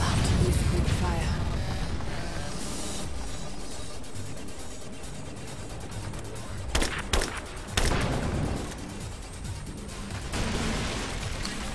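Gunfire in the video game Rise of the Tomb Raider, dense bursts of shots and crashes over game noise, with a few sharp, loud volleys later on and speech mixed in.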